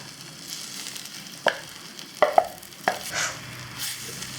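Rice being stirred into spinach and masala in a pan, a soft sizzle underneath with a few sharp spoon scrapes and taps against the pan, close and clear.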